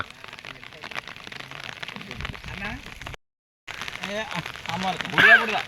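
Heavy rain pours down during floods around a hostel, a steady broadband hiss of drops on surfaces with voices talking over it and a brief dropout midway.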